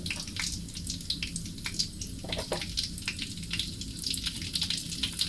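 Dried red chillies frying in hot oil in a pan, a fine continuous crackling sizzle with scattered sharper pops, steady and fairly soft throughout.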